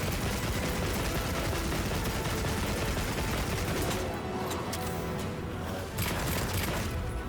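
Heavy bowgun in Monster Hunter Wilds fires a sustained stream of rapid machine-gun shots, loud and dense for several seconds, the barrage thinning slightly toward the end.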